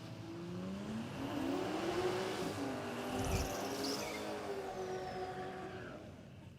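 A drag race car on the uphill braking area at Warwick Dragway in Australia, its engine note rising and falling at a distance, steady and moderately faint over open outdoor ambience.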